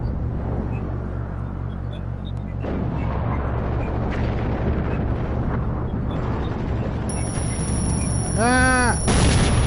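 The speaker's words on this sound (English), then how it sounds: "Oh my god, there's a grenade." A grenade detonates in the shooter game Rogue Trooper Redux, a loud, rumbling blast amid continuous heavy battle noise that fills the whole stretch, with a voice partly heard under it.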